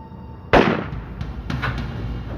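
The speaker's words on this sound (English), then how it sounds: "And then he heard a gunshot." A single sharp gunshot rings out in a reenacted backstage murder scene, loud and sudden with a short decaying tail, followed by fainter knocks and rustles.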